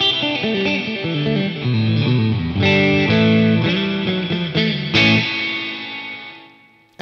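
Electric guitar chords ring out through an MXR reverb pedal swept with an expression pedal, the loud strummed notes washing into long reverberant tails that fade out alone at the end.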